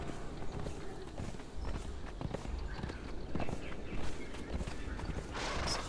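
A horse's hooves clop along a jungle path in the game Conan Exiles, a quiet rhythmic run of hoofbeats with game ambience and a voice talking faintly underneath.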